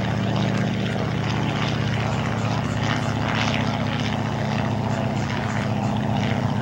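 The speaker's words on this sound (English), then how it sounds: "Our number 2 aircraft taking off." A PT-23 open-cockpit primary trainer airplane with a radial engine takes off at an airshow, its loud steady propeller drone and engine rumble filling the air throughout.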